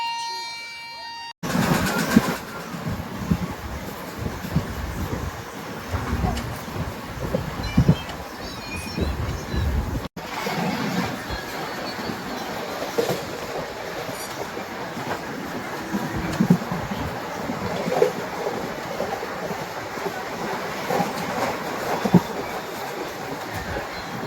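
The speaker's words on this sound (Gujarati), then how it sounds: "આ છે અમારી ટ્રેન." A train rumbles along steadily with rhythmic rail clatter, loud and close, with people talking intermittently over the noise.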